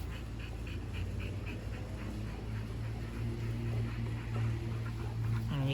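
Kratos, a Dogo Argentino, pants steadily in rapid breaths during outdoor play. The panting runs the whole time at moderate level over a low steady hum, with a few faint whimpers.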